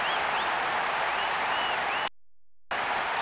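A stadium crowd applauds and roars to welcome the teams at a Liverpool vs Real Madrid football match, a dense, steady wash of noise that cuts out briefly and then resumes.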